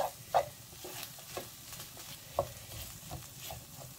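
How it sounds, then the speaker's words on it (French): A spoon mixing a chicken, cheese and olive filling for briouats in a bowl, soft quiet stirring with a few sharper knocks and taps, no voices. "Je vais bien mélanger à toute la farce."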